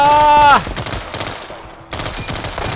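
Rapid gunfire crackles in World War 3 gameplay, dense loud bursts over game audio that break off midway and then resume, with a voice talking briefly.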